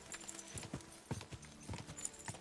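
Horse hooves clopping along a road in Kingdom Come: Deliverance, a quiet, irregular run of soft hoof beats with no talk over them.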